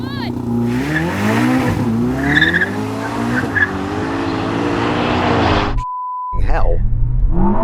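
Ferrari SF90 XX and Xiaomi SU7 Ultra launching in a drag race: a loud, rising engine and electric whine with tire noise, building steadily, then a short cut and a resumed roar.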